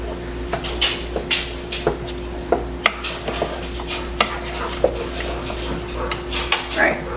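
A spoon stirs food in a pot with repeated clinks and scrapes against the metal, close and irregular, over a low background hum.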